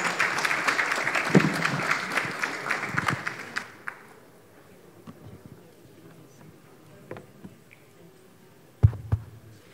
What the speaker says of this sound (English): Please, let's welcome her with a hand of applause.